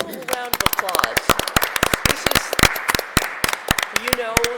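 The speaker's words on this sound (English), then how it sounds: "I think we can roll a round of applause." A round of applause at a school committee meeting: dense, irregular clapping from a group of people, loud and close, sustained across the clip.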